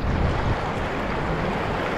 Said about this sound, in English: There's waves, but we're okay.